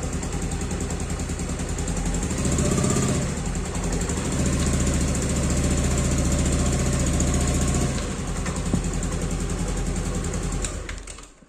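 A Yamaha Aerox scooter engine idles with a steady metallic rattle that grows louder when the engine is hot, running continuously and close before fading out at the end.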